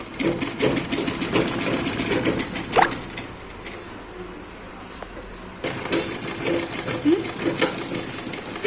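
A sewing machine runs close up, stitching piping onto a cross-cut blouse; a fast rattling burst pauses for about three seconds, then the stitching resumes, with little or no talk.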